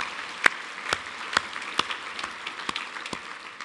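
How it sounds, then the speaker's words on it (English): Sparse applause from a small audience at a regional planning address: a few distinct claps spaced out over a soft background hiss. "We should applaud for that."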